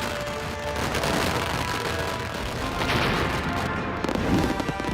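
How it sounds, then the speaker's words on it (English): Fireworks at Lewes Bonfire Night crackle and pop in a dense, continuous barrage of bangs and bursts, heard from within a large outdoor crowd of spectators. "and every kind of firework you can imagine."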